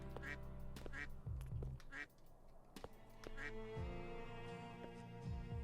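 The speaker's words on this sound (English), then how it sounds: "I hate the quacking. I forgot this quacking is so annoying." In a Roblox bird obstacle-course game, a duck quacks repeatedly, loud and close, in short nasal bursts with steady game music beneath and no talking.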